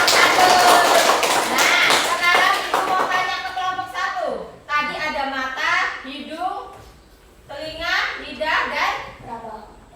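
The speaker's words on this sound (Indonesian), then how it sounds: "Beri tepuk tangan dulu untuk kelompok 1" A fifth-grade classroom claps for a student group: a burst of close, quick hand claps in the opening seconds, then children's and a teacher's voices take over.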